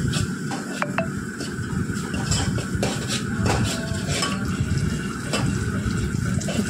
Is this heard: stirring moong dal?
yes